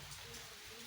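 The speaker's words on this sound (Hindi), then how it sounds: "अभी बारिश का आनंद ले रहे हैं।" Rain falling at a temple site, a brief steady wash of drops heard alone.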